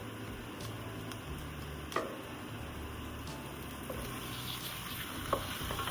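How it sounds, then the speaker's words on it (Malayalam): Chicken pieces sizzling and frying in masala in a pan for a simple chicken stew, a steady close crackle with a few sharper clinks as the chicken goes in and is stirred. "അതിലോട്ട് നമുക്ക് നമ്മൾ കഴുകി വെച്ചിരിക്കുന്ന ചിക്കൻ എടുത്ത് അങ്ങോട്ട് ഇടാം."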